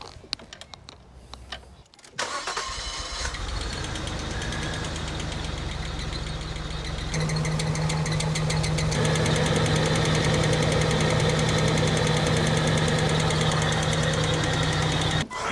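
An abandoned Nissan R34 Skyline engine cranks and catches after a brief pause, then settles into a loud, steady, rough idle close by that rises slightly partway through, with no voices.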